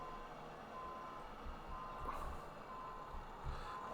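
Reversing beeps from a truck in the Euro Truck Simulator 2 driving game repeat at a steady pace, faint and electronic, over a constant low engine drone with a brief hiss partway through.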